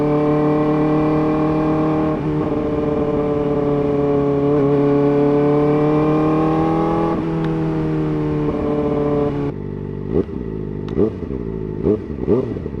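A Kawasaki ZX-4RR motorcycle's intake roars as it accelerates, the pitch climbing steadily through a gear, then dropping to uneven burbling revs near the end.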